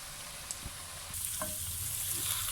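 Sweet rice (mutanjan) sizzling in a pot over a turned-up flame, a steady close frying hiss that swells after a second with a few faint scrapes and clinks.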